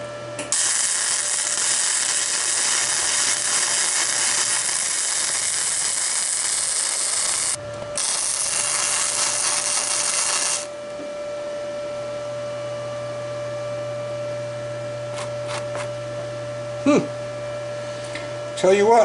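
A small welder working on steel tubes of a press brake kit produces loud, steady hissing crackle in two long bursts separated by a short pause, then gives way to a quieter hum with faint clicks.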